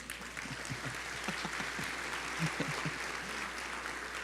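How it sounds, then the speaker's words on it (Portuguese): Churchgoers clapping for a speaker during a service, a steady wash of many hands at moderate distance, fairly soft, with a low hum beneath. "Dê um aplauso a ele."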